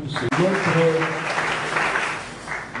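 An audience at a gathering of elected deputies applauds briefly, dense clapping blended with voices and a tonal hum.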